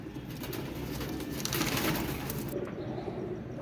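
Pigeons cooing in a loft or coop, with soft low coos mixed with rustling and steady background noise, fairly faint and continuous throughout.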